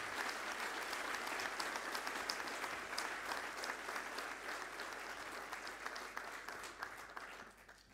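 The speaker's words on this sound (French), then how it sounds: "Je vous propose d'applaudir très chaleureusement Marc Lièvremont" A conference audience at a trade congress applauds warmly for former rugby coach Marc Lièvremont, a soft, distant, even wash of many hands clapping that tapers off at the end.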